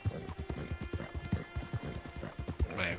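Horse hooves clip-clop at a steady walking rhythm in the video game Red Dead Redemption 2 Online, close and distinct, with a brief snort or whinny near the end.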